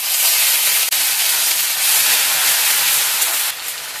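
Ginger paste hits hot oil already holding dried red chillies, five-spice seeds and bay leaves for a Bengali milk shukto, giving a loud, steady, close sizzle and hiss that barely dips throughout, with no talking.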